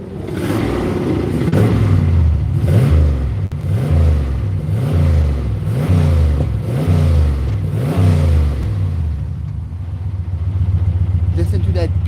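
Car engine with its exhaust switch open, revving in repeated surges then settling into a loping idle, loud and close with a voice talking over it.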